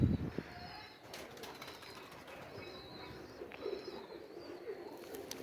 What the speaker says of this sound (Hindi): कसूरी कबूतर है असल में तो ये